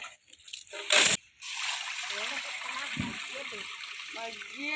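Water drains from boiled paddy rice scooped into a sieve, a close sloshing trickle and splatter after a sharp clatter, with a voice talking over it at times.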